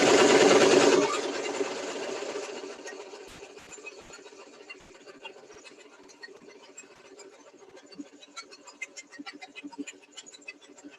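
A sewing machine runs a straight stitch along fabric for a bowl cover, a loud burst at the start settling into a steady close whirr with rapid needle ticking throughout, no voices.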